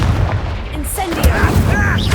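A fiery Incendio spell bursts from the caster in the Hogwarts Legacy video game: a short, loud whooshing blast with crackling pops, set against dense game sound effects and a brief voice.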